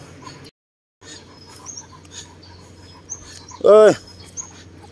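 A pet dog lets out one short, high, rising-and-falling whimper over a quiet room background, with a brief dropout of silence earlier.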